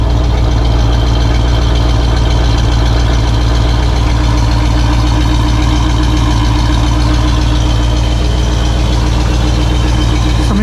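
A 1968 Pontiac LeMans V8 with dual exhaust runs close by with a loud, steady, deep rumble and a continuous low throb. No sharp rise in revs stands out.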